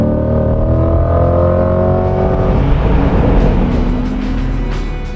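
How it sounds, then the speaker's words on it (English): A Chevrolet Corvette Stingray's mid-engine V8 pulls hard under full throttle, a loud, steady engine roar climbing through the revs with rising harmonic tones, sustained and close throughout. "that powerful mid-engine V8 back there has all the torque necessary to fling the Corvette up to triple-digit speeds, quickly and easily"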